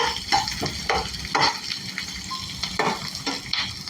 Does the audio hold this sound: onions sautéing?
yes